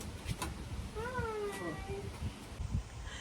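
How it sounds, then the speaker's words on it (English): A newly rescued kitten gives several clear, rising-and-falling meows close by, with a few faint thumps and light household noise around it. "Look, Suge, look at the cat."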